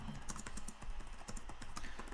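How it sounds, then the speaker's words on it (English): Keys tapped on a computer keyboard as text is entered, a quick irregular run of light clicks that keeps going throughout, close and fairly quiet over a steady low background hum. "Let me type something."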